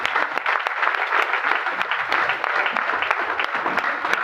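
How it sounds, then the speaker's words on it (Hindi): Sustained, dense audience applause fills the room at a Hindi-language business seminar, a steady wash of many clapping hands with no break across the clip. "एक बार अपने लिए जोरदार तालियां।"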